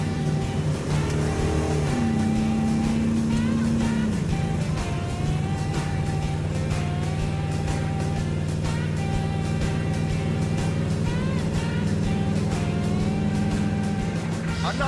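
A Dodge Dart fitted with a motorhome 440 engine drones steadily while cruising on a highway, with a loud continuous engine hum and road noise filling the cabin and small shifts in pitch as speed changes.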